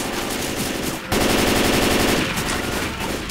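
Rapid automatic gunfire from a Left 4 Dead 2 co-op match, a dense, loud stream of shots that swells sharply after the first second and keeps rattling near and continuous to the end.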